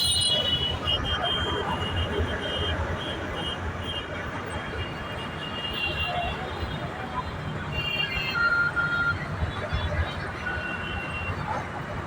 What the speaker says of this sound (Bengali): গাইস দেখুন ট্রেন,